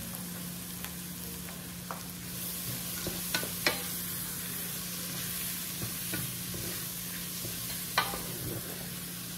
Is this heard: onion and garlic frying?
yes